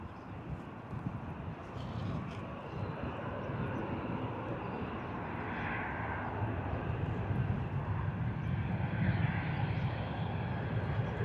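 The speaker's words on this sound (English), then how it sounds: "Ryanair coming in from Venice." A Ryanair airliner arriving at Bristol Airport, its jet engines making a steady, fairly distant broadband roar with gusty wind noise that holds level throughout.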